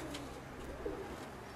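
Pigeons coo softly in a dovecote, a faint low cooing murmuring over steady background hiss with no talking.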